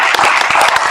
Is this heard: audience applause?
yes